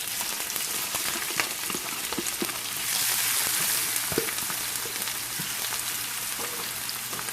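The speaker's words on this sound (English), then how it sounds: "Let's go on and get these onions going." Onions and green peppers sizzle in hot oil in a skillet with a steady, close crackling hiss and scattered pops, swelling briefly as more vegetables go in.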